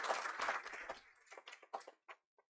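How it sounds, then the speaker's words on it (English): An audience at an app launch applauds, a burst of close clapping that starts full and then thins into scattered individual claps before stopping. "So big round of applause for Deepak sir."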